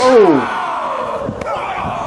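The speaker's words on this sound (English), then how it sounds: "They're oohing and ahhing, just like we are." Wrestling crowd reacting with a loud rising ooh that swells and trails off, then a sustained murmur of arena noise with a sharp slap-like hit near the middle.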